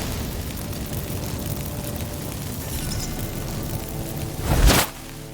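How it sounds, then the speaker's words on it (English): Magic fireworks burst from activated incense in The Witcher 3: a low rumbling ambience builds, then one sharp, loud whooshing blast erupts near the end and cuts off quickly. "Get ready for some magic fireworks."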